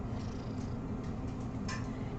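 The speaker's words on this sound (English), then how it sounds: "She is constantly purring," A rescued cat purrs steadily up close, a soft continuous low rumble that runs without a break.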